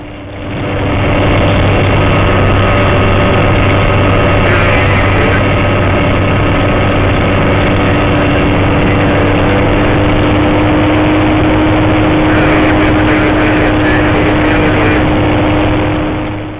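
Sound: electric motor of RC P-40 model airplane flying

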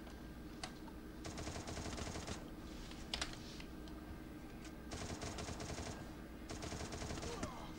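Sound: gunfire in the video game Free Fire

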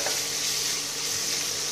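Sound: ginger added to frying samosa filling

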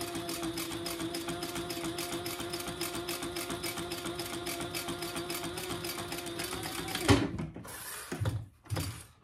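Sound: sewing machine stitching a handbag

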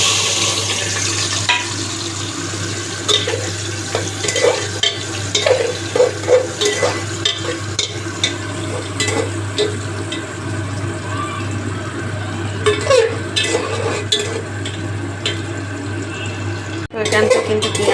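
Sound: onions frying in a pot

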